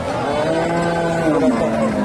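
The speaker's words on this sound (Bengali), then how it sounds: "এখানে একটা দেশি গাভী দেখতেছি" Desi cow lowing at a cattle market, a long drawn moo rising and bending in pitch over a steady hum of crowd chatter, the animal close and clear above the busy background.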